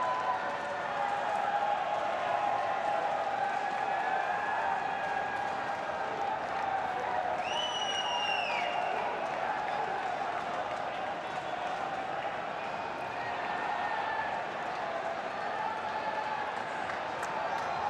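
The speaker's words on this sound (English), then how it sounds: "Those Indian fans are going crazy." Indian cricket fans fill the Gabba stadium with a constant roar of crowd noise, steady throughout, with a brief whistle-like call rising above it partway through.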